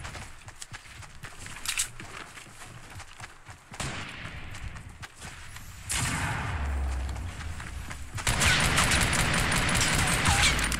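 A minigun in Fortnite Battle Royale fires rapid, dense bursts that swell into a loud sustained rattle, mixed with scattered gunfire and footsteps.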